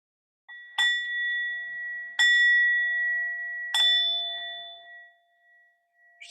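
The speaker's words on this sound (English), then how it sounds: "And after I ring the bell, you'll notice that thoughts may come up" A meditation bell is struck three times at even intervals, each bright, clear tone ringing out and slowly fading in a quiet room, with no talking.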